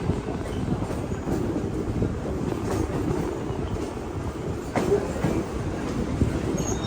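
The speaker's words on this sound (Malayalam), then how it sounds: "തിലക് നഗർ റെയിൽവേ സ്റ്റേഷനിൽ നിന്നും 17 കിലോമീറ്റർ യാത്ര ചെയ്ത് ട്രെയിൻ ഇതാ ഛത്രപതി ശിവാജി മഹാരാജ് ടെർമിനസ് സ്റ്റേഷനിലേക്ക് എത്തിക്കൊണ്ടിരിക്കുകയാണ്" A Netravati Express train pulls into Chhatrapati Shivaji Maharaj Terminus in Mumbai with a steady, close rumble and clatter of the coaches. A brief metallic click comes partway through and the noise never lets up.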